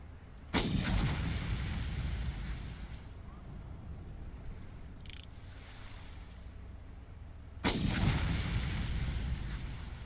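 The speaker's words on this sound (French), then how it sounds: "C'est quoi ça, c'est un lance-grenade?" Grenade launcher firing in the video game Far Cry: two loud, sharp booming blasts about seven seconds apart, each leaving a decaying rumble, with a fainter thump between them over quiet ambient wind.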